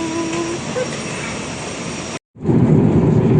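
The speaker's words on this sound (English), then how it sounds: "That's the plane." A Virgin airliner's jet engines hum and whine loudly and steadily at close range on a Heathrow apron, cut by a brief silence before a heavier, lower roar resumes.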